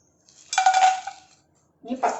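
Roasted chana dal tipped and scraped from a pan into another vessel, giving a short run of close metallic clinks and rattles, a pause, then a second brief scrape.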